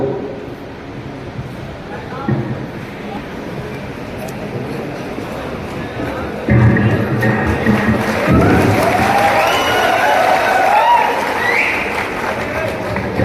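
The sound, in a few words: loud applause from an audience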